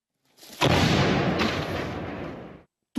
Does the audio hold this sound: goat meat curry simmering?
no